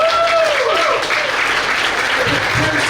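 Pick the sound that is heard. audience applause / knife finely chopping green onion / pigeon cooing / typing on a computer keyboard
audience applause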